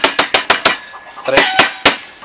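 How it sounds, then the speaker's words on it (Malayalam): Sharp, loud whacks of a tool pounding chicken breast pieces flat on a board, first in a quick steady run of five or six blows, then a few more spaced strikes, with a voice briefly between them. "ഇങ്ങനെ എല്ലാം നമുക്ക് നന്നായിട്ട് പരത്തി എടുക്കണമെങ്കിലേ പറ്റത്തുള്ളൂ"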